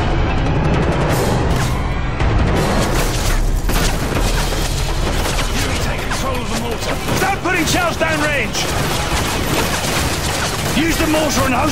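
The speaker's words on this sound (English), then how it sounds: "If it moves, put a mortar shell on it." Rooftop mortar fire and blasts in the Call of Duty Modern Warfare 3 video game, aimed at enemy technicals and troops: loud, dense, nearly continuous booms and crackling gunfire, with some voices heard through the din.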